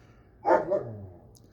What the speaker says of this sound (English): I'm sorry if you can hear my dogs in the background.